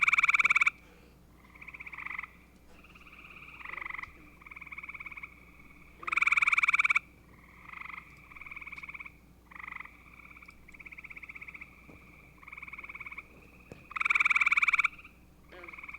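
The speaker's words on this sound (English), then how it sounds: "The gray tree frog, Hyla versicolor," Gray tree frog (Hyla versicolor) trill calls, loud buzzy pulsed trills repeating every few seconds with several quieter frogs trilling in the background chorus, no voices.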